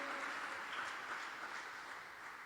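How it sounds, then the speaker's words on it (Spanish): A church congregation in Guayaquil applauding, a dense steady wash of clapping from many hands that holds for the whole stretch and fades slightly toward the end. "Dale fuerte ese aplauso al Señor."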